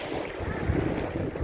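Sea waves wash and roll continuously under gusting wind that buffets the microphone, a steady dense roar with no voices.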